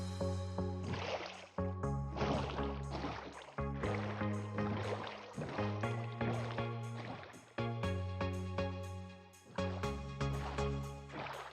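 Rhythmic paddle-like splashes of a small boat moving through water, repeating steadily over a sustained musical drone.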